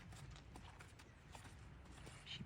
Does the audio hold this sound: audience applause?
no